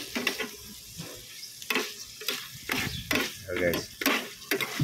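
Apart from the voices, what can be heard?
garlic and onion frying in a pan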